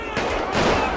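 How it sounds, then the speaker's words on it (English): A juggernaut fires a big gun in GTA 5 with police mods, a loud, dense burst of rapid gunfire filling the whole short moment at close range. "He's opening the fire. He's got a big old gun."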